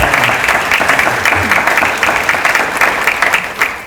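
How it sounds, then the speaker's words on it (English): Dense, steady applause from a theater audience at a live lieutenant gubernatorial debate, many hands clapping together in a continuous broadband wash that holds at the same loudness for the full stretch, with no voices over it. "round of applause"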